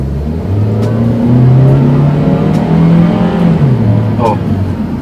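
A 2018 Daihatsu Terios automatic accelerates hard, its engine droning loudly and climbing in pitch through the gears from inside the cabin, with someone talking over it.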